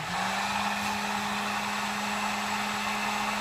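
A heat gun blowing hot air to shrink heat shrink tubing on a mask cord, a steady, close, loud whooshing roar with a constant motor hum and no talking.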